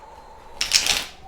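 A deck of tarot cards is shuffled in one quick, crisp riffling flutter lasting under half a second over a quiet background.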